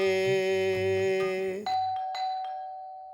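A doorbell chimes with a sustained ringing tone that stops and shifts into a two-note ding-dong with decaying ringing tails, loud and clear, with no voices.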